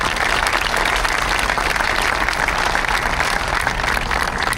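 A crowd at a National Vietnam Veterans Day memorial parade gives a helicopter pilot, a former Republic of Vietnam Army lieutenant, a big round of applause: loud, dense, continuous clapping that holds steady from start to finish.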